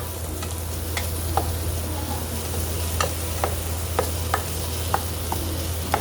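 Ginger, onion leeks and garlic sauté gently in a pan of oil with a steady, close sizzle. Periodic sharp utensil clicks and scrapes ring out as the pan is stirred over a low hum, and no voices are heard.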